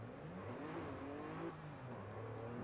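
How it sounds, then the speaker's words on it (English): A car engine revs and drones in the racing video game Forza Horizon 5, its pitch climbing and dropping through gear changes in a continuous, fairly quiet run. "Listen to that engine!"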